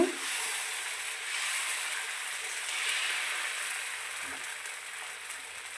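Dosa batter on a hot griddle over a low flame gives a soft, steady sizzling hiss that stays fairly faint and even throughout.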